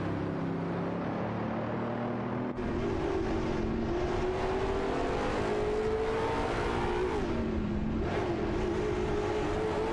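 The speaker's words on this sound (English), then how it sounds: "They're zooming around the track." Engine whine of race cars lapping a track in an AI-driven racing video game, a loud continuous drone with pitch rising and falling as the cars pass and shift.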